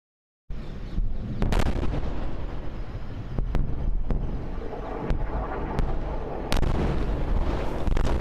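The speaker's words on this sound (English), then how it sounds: "explosions rock the skies over Israel and Iran" Continuous heavy rumble with sharp booming cracks every second or so, loud and without voices, explosions over Israel and Iran echoing like distant blasts or gunfire.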